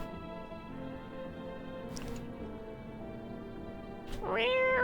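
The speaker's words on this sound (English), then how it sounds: "I did in fact pick up the cat." A cat in a horror game meows, drawn-out and wailing, rising loud at the end over a faint musical drone, with a voice speaking briefly under it.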